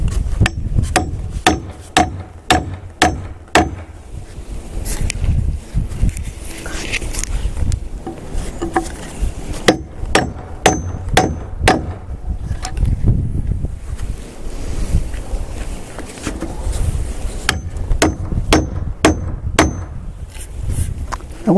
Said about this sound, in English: Nails banging against wood